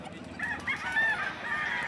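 Chickens at a busy livestock market in Padre Garcia, Batangas, clucking and squawking in a steady overlapping chorus against crowd noise, with one louder bird standing out near the middle.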